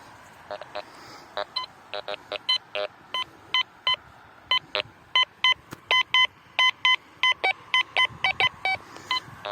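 A metal detector over a buried coin near an old tavern site gives repeated short electronic beeps in an irregular series of tones, loud and close, with brief gaps between the signals.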